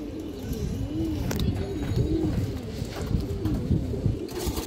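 A pair of Kaldom pigeons coo in soft, repeated rising-and-falling phrases, close by and fairly steady, with small rustles around them.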